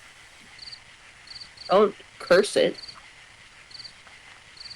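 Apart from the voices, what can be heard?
crickets chirping in a video game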